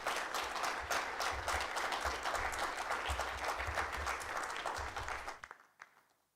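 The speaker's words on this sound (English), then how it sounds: "Please, another round of applause for our speaker." An audience at a crypto staking conference main stage applauds a speaker, dense sustained clapping for about five seconds, then quickly tapering off to a few scattered claps and silence.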